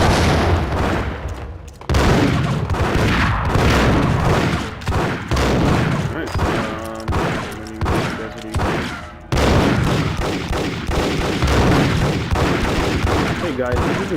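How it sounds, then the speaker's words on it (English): Grenade blast and bursts of gunfire in the Max Payne video game, dense and loud throughout with repeated booms and rapid shots, a sharp restart of the action midway. "Oh, grenade."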